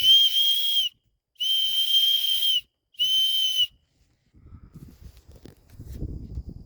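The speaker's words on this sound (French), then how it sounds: "Je peux vous assurer que le sifflet a quand même un bon bruit là." A survival whistle blown three times in a row, shrill, steady high blasts of about a second each with short gaps, followed by faint rustling and handling noise near the mic.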